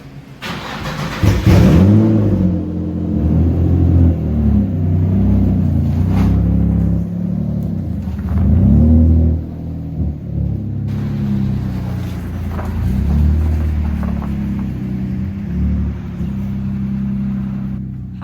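A Nissan 240SX S13 pulls into a garage, its engine firing with a sharp burst early on and then settling into a steady, close rumble with a few swells of throttle. No one speaks.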